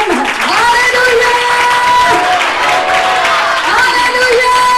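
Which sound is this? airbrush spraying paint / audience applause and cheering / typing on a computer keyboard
audience applause and cheering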